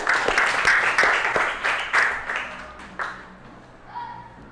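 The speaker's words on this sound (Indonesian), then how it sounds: "Beri tepuk tangan untuk semuanya." Students in a classroom applaud, a run of loud, uneven hand claps that thin out and fade over about four seconds.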